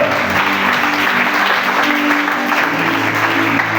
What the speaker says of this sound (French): nous acclamons pour le Seigneur. Acclame, ne sois pas timide